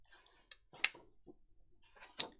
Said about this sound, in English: I'll have to take my bracelet off. It's clicking.